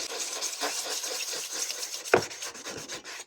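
Fine wet-and-dry sandpaper wrapped on a flat wood block is rubbed along a STIHL HS 45 hedge trimmer blade to dress off burrs, making close, rhythmic scratchy strokes with one sharper scrape near the end.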